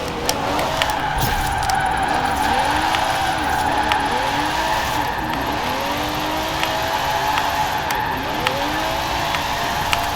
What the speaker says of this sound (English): Second gear takes a little time for that turbos to really kick in